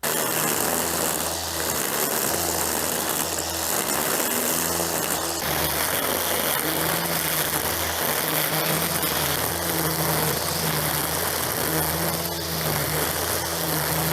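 An EGO ST1613E-T cordless string trimmer cuts grass with a continuous high-pitched electric whine and a steady droning hum, holding a loud, even level over many seconds with slight dips as the cutting load shifts.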